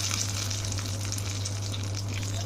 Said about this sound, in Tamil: இதை கீரையில் கொட்டிட்டு தேவையான அளவு உப்பு போட்டு கலக்கிக்குங்க.